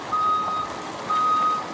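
Garbage truck at a landfill sounding two steady, loud reversing beeps, each about half a second long, with a short gap between them over low engine rumble.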